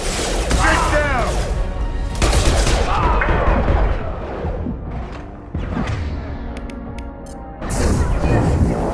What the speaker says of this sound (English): Watch your back, Shepard. I'm taking fire